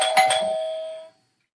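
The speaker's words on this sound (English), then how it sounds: "The doorbell rang while Karen and Tom were reading comics." A single two-tone doorbell chime rings out clearly, its bright tone ringing on and fading away after about a second, followed by silence.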